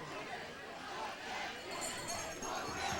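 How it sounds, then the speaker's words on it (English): A high school football championship crowd in the stands chanting and yelling during a fourth-down punt, a dense distant roar of many voices with rhythmic shouted chanting. "The crowd yelling, block that kick."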